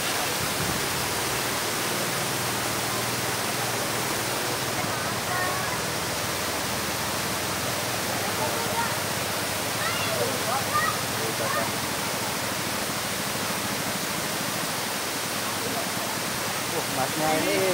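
A constant roar of falling water from the Sri Gethuk waterfall in Indonesia, broad and steady from start to finish, with faint voices occasionally under it.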